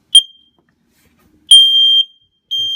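A First Alert smoke detector sounds in test mode, giving a short chirp and then longer piercing high-pitched beeps, loud and close, separated by silence.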